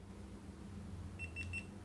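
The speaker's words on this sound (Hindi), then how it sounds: "2 सेकंड के लिए मोड बटन दबाना है तो बीप आएगा, तो कैमरा स्टार्ट हो जाता है।" A GoPro Hero 8 action camera gives a short series of three high electronic beeps on startup as its mode button is held, over a quiet low room hum.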